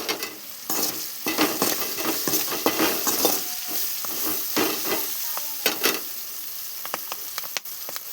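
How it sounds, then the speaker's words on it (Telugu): Curry leaves hit hot tempering oil with mustard seeds, urad dal, cumin and dried chillies, bursting into a loud crackling sizzle with sharp pops and stirring scrapes in uneven bursts that slowly settle. "ఇంకా నెక్స్ట్ అయితే కరివేపాకు వేస్తున్నా."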